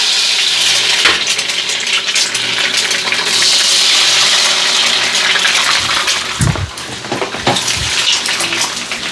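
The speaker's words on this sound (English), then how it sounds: "I'm going to let it heat up, and I'm going to cook my eggs first" Eggs fry in hot oil in a pan for Filipino fried rice, with a loud continuous sizzle broken by a few clinks and scrapes of utensils against the pan.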